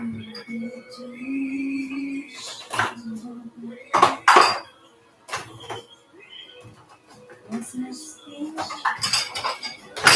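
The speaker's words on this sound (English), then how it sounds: "I need my pan over here." A metal pan clanks and scrapes across a kitchen counter during lasagna preparation, with several sharp knocks and clinks spaced apart and a voice faintly humming or talking in between.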